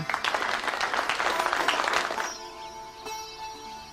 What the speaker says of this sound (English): Children, let's all clap for Meenu and Chinu.